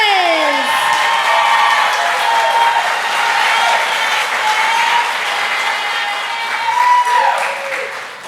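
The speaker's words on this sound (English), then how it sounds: "Let's give them one more round of applause." Loud, sustained applause from a crowd at an elementary school kindergarten celebration, with scattered whoops and cheers rising over the clapping before it fades at the end.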